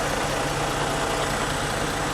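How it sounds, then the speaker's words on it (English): A truck engine idles steadily and loudly throughout during a pre-trip inspection, a continuous even rumble with no voices. "I know y'all are probably going to get a lot of engine noise"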